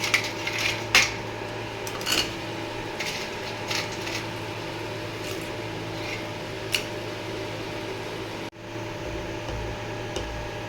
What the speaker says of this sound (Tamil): இப்போ நம்ம அது கூட உடனே நம்ம நண்டு ஆட் பண்ணிக்கலாம்.